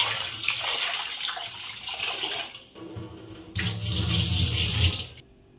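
Toor dal is rinsed under running tap water, a loud continuous splashing stream that briefly drops off, then returns strongly before cutting out at the end.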